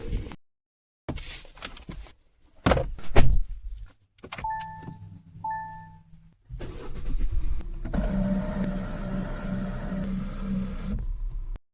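A car door thuds shut, keys rattle and a power window whirs, then the engine cranks and settles into a steady idle.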